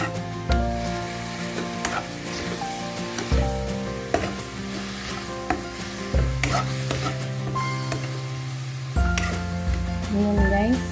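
Stir-fry beef with pepper sizzles in a pan while being stirred, with occasional clinks of utensil on metal under prominent background music; a voice is faintly present.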